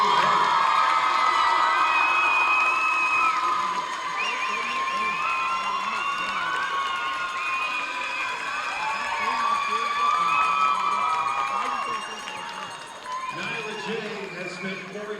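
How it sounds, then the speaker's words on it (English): A basketball crowd at a girls' game between Central Catholic and Reynolds cheers, whoops and applauds in a loud, sustained burst, with children shouting and a voice speaking through the noise before it thins out near the end. "let's have a round of applause for Nyla J."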